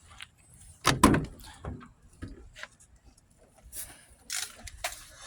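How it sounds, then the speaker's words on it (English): A car door on an old, worn-down car being opened, with a sharp latch clunk and rattling handling knocks, followed by lighter scuffs and clicks, close and otherwise quiet. "Open my other door."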